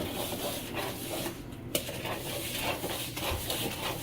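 Chocolate chip pumpkin cookie batter being stirred in a bowl, a dense low churning with soft repeated scraping strokes, quiet and close, with one small clack partway through.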